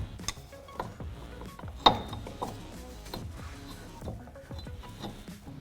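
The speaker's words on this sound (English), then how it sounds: "To drop the differential, we have to unbolt the drive shaft. There's 4 11 millimeter bolts holding it on." Mechanic loosening the four 11 mm drive shaft bolts under a Chevrolet Silverado during a lift-kit install: scattered clicks, knocks and ratcheting clatter, one sharper metallic clank, close and fairly quiet with no talk.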